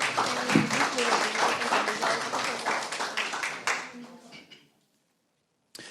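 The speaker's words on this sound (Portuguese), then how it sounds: "por favor, aplausos" Audience applause for a student presenter at an Angolan science fair in Rio, a dense steady wash of clapping that fades out toward the end, then brief silence.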